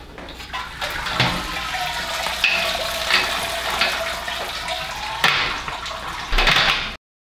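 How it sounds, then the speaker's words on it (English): Liquid draining from a lifted grain basket during moonshine making, a continuous close splashing and trickling of water with occasional louder gushes and clanks, cutting off abruptly at the end. "We're gonna drain the liquid out of this basket."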